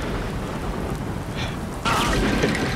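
A crackling thunder burst from a lightning spell in the co-op wizard game Magicka 2 cuts in abruptly near the end, loud and sustained over a steady low rumbling game ambience.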